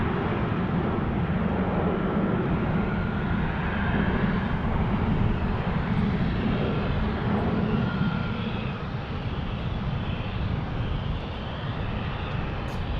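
Heavy jet airliner arriving at Salt Lake City International Airport, a loud continuous broadband engine roar that stays strong throughout and eases slightly near the end, with no talk over it.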